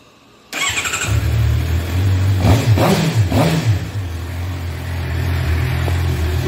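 A Suzuki motorcycle engine cranks on a newly installed starter motor and catches, revving briefly before settling into a steady, close idle.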